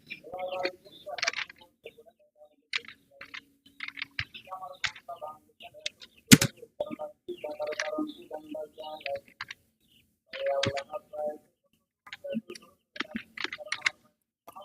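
Typing on a computer keyboard, bursts of quick light key clicks separated by pauses, with a voice speaking quietly at times.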